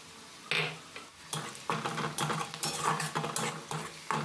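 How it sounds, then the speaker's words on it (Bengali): Onion and whole cumin are stirred in a pan with a utensil, giving a quiet, close series of scraping and clinking strokes over a soft sizzle, in an uneven rhythm. "গোটা জিরে দিয়ে একটু নাড়াচাড়া করে নিতে হবে"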